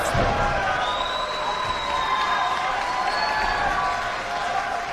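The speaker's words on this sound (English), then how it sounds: "Listen to this crowd in San Jose" A large crowd at a New Japan Pro-Wrestling event in San Jose, a dense, loud, continuous roar of cheering and shouting that fills the arena, with a few whistles rising above it.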